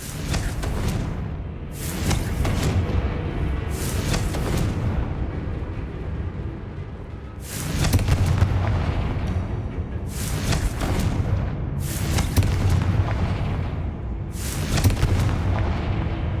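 Confringo blasting spells in Hogwarts Legacy go off as a series of loud, booming explosions, five or six bursts each followed by a rumbling decay, with no talking over them.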